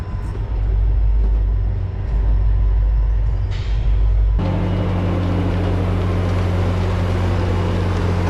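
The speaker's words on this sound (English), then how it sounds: "There's the freight train motoring by up there." A freight train rumbles by at a distance, a steady low drone that grows louder and fuller partway through, with no talking.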